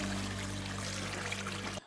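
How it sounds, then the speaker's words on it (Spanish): Water is poured into tubs of clay during traditional pottery making, a steady soft rushing pour with a low hum beneath, ending abruptly. "Después le agregan agua."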